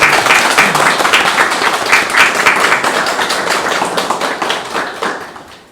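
Sustained applause fills a Korean academic society conference hall, dense clapping from a sizeable audience that holds steady and then gently tapers off, with no voices over it.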